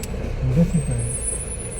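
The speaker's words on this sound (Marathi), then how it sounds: "इथं थोडंसं ट्रॅफिक आहे." Busy road traffic with trucks, a steady low vehicle rumble with a brief air-brake-like hiss, fairly close, under a faint voice.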